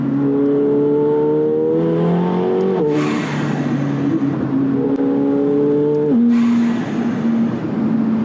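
A 900 hp McLaren 720S accelerates hard from inside the cabin, engine note climbing steeply through the gears with sharp shift breaks about every three seconds, loud and continuous with no talk.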